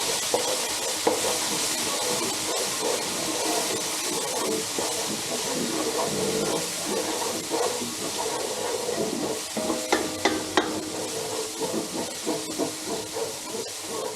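Garlic sizzling and hissing in hot oil in a wok for nasi goreng, a steady frying hiss throughout with scattered stirring clatters and scrapes growing busier toward the end, close and continuous with no talk.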